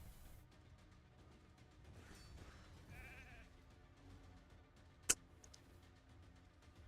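Sheep bleating in the Raid: Shadow Legends video game, a faint bleat or two over quiet game sounds, followed by a single sharp click.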